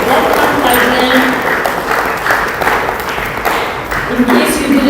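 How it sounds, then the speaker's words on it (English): An audience applauds a youth association team at a Sikh gathering, steady close clapping across the whole span, with a voice heard faintly over it. "let's give a round of applause."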